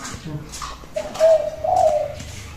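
A zebra dove coos close by, two drawn-out mellow notes rising clearly over faint background murmur.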